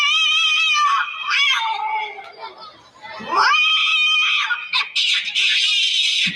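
A mimicry performer imitates two cats fighting with his voice, producing loud, close screeching yowls and wails that rise and fall over several seconds and end in a harsh, sustained screech.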